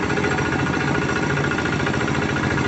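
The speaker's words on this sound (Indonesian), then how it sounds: "Kita lihat traktor tangan sedang mengadakan proses" A hand tractor engine levelling a flooded rice field in Deli Serdang, a loud continuous chugging drone with rapid rhythmic knocking, steady throughout and close by.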